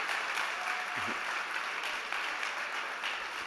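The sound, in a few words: audience applause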